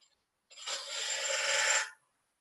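A single raspy scraping stroke of a pointy spindle gouge cutting into wood on a lathe, close and fairly faint, lasting about a second and a half between silences.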